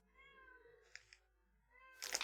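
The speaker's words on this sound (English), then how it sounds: "It's the cat." A cat gives a couple of short meows at close range, then a louder, longer meow at the end, with faint background tones.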